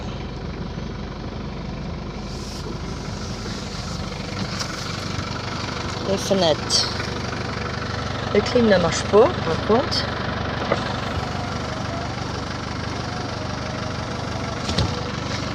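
The engine of a 2000 Nissan King Cab idles steadily from start to finish, with a low, even rumble. People talk over it inside the cab, and there are a few clicks and knocks from the controls.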